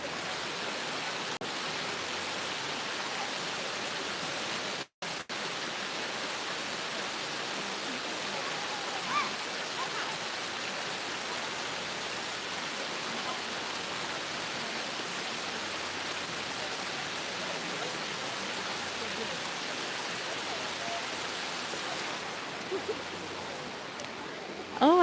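Water flows steadily and loudly through the Tbilisi Botanical Garden in autumn, a continuous close rushing like a stream or small waterfall, with a brief dropout partway through.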